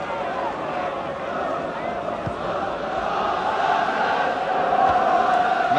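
Newcastle supporters in a football crowd of nearly 27,500 roar steadily throughout, a dense continuous wall of cheering that swells slightly toward the end, with no clear individual voices standing out.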